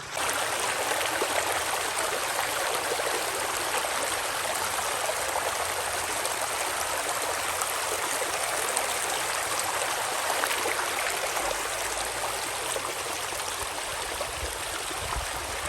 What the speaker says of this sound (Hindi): यहाँ पे आप पानी की स्पीडें चेक करें जी, क्या कमाल का तेज़ पानी है, बड़ी स्पीडों से जा रहा है जी